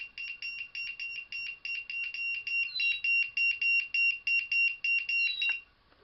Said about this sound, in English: is how you hook up a buzzer to the drone.